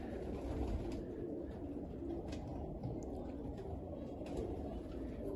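A breeding pigeon coos steadily inside a loft, the low soft cooing continuous and close amid a dense murmur of other birds.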